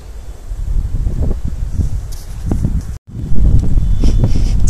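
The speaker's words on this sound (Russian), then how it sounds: "ветер подул" Cold winter wind buffets outdoors in gusty low rumbles with rustling and a brief dropout, close to the microphone and with no talk.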